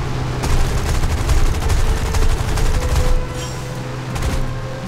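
Rapid, heavy cannon fire from a P-39 Airacobra aircraft in War Thunder, in continuous bursts, loud and booming, then a brief drop in intensity before firing resumes.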